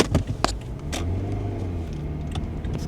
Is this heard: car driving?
yes